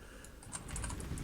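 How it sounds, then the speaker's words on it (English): Computer keyboard clacking during gaming, a quick run of close, light key clicks over a low room hum. "otherwise it's going to be all my keyboard clacking"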